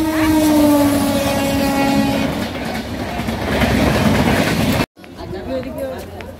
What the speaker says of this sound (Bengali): ট্রেন মনে একটা চলে এসেছে